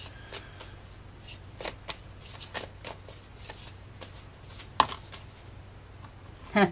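Tarot cards being shuffled by hand, a steady run of soft riffling slaps and flutters, close and fairly quiet, ending with a couple of sharper taps.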